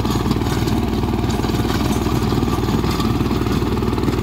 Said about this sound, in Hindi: 15 HP का ट्रैक्टर है।